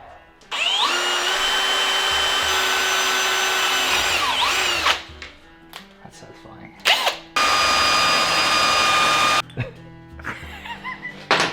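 A power drill whines loudly as it bores through a metal plate in two long bursts, the motor pitch sagging under load, with brief pauses and clatter between.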